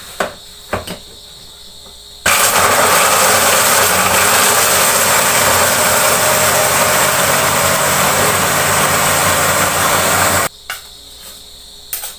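A kitchen grinder runs loudly and steadily for about eight seconds, grinding ingredients with a little sugar for homemade chocolate. It starts and stops abruptly, and a few faint knocks come before and after it.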